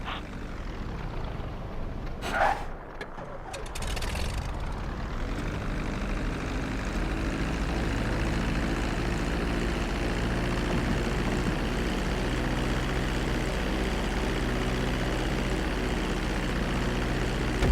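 A propeller airplane engine drones steadily in GTA V as the plane lands and taxis, with a brief whooshing disturbance early on before a loud, continuous engine roar takes over.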